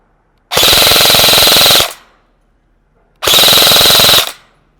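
A KWA QRF airsoft AEG rifle fires two loud, close full-auto bursts, each a rapid buzzing rattle of about a second and a half, with a short quiet gap between them.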